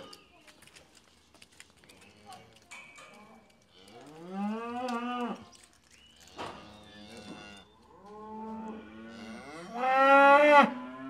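Farm cattle, including a belted Galloway herd, moo several times in long drawn-out calls, some close and loud and others quieter, with faint knocks and shuffling in between and a person's voice mixed in.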